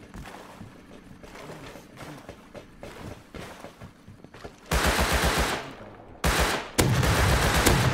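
Double-barrel shotgun fire in the Rust video game on the oil rig: several loud, heavy blasts late on, each with a short booming tail, after a stretch of quieter shuffling and movement noise.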